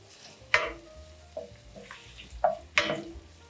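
Two tablespoons of butter melting in a hot pan with carrots over medium heat, a soft sizzle broken by several sharp stirring scrapes and knocks at irregular intervals.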